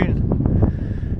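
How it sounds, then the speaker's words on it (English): Strong wind buffeting a microphone outdoors at Porlock Weir, a steady low rumbling roar that fills the whole moment, loud and close. "The wind is blowing"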